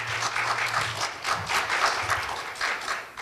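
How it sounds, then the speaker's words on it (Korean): Audience applause at a lecture marking the 55th anniversary of the April 19 Revolution, greeting a guest: steady, dense clapping from a hall crowd, moderately loud and continuous for the whole stretch. "박수 한번 보내주십시오."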